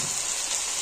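Meat being cooked in a pot, a brief steady hiss and sizzle, close and even throughout, with no talking.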